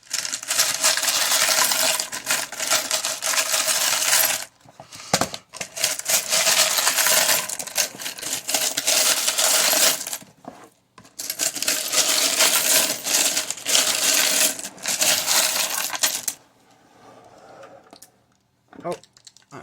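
Loud, continuous rattling and clacking of a deck of cards or small objects being shuffled close up, in long bursts broken by brief pauses, fading to quiet handling near the end.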